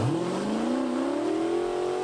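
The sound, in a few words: street car accelerating on a drag strip run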